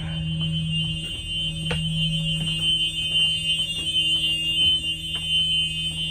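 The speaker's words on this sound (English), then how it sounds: "Emergency exit, light and buzzer, both working" A loud continuous electronic emergency exit buzzer on a Thomas school bus drones steadily for the whole stretch during a pre-trip inspection, with faint clicks and knocks in the background.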